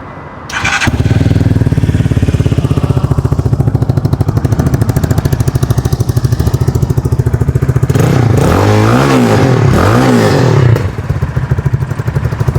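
A 200cc fuel-injected motorcycle engine starts and idles with a rapid, even chugging, then revs up and down a few times near the end before settling back.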